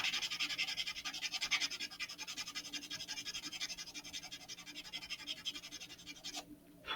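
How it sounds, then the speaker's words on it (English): Sandpaper rubs steadily over parts of a vintage Estes Super Vega model rocket, a close, continuous rhythmic scratching of quick back-and-forth strokes that stops near the end. "that's what the sandpaper is for"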